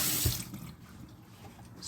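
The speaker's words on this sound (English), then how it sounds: "So let me rinse this a bit." Kitchen tap running as a measuring container is rinsed, a soft splashing rush of water that fades after a moment into quieter trickling, close and faint with no talk.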